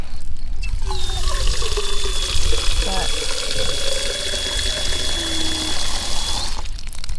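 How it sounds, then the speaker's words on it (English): Cool water runs steadily from a garden hose into flower vessels, a continuous close splashing trickle that goes on for several seconds while someone talks over it. "We wanna get some nice cool water in our vessels, especially because we want them to last as long as possible."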